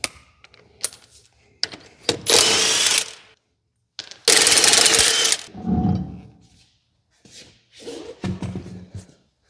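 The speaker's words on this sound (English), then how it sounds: "But first thing we need to do is get it on the lift." Vehicle lift raising a bagged Ford F150 pickup in a shop, with intermittent mechanical bursts of whirring and ratcheting, separated by short quiet gaps.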